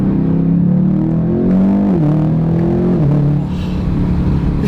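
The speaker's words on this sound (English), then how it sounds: "So let's shift down, let's see what we got. Second gear now, first quick pull here." A 2020 BMW M8 Competition with turbocharged engine pulls hard in second gear, a loud, smooth engine note climbing steadily in pitch with brief dips at shifts, heard from inside the cabin without talk.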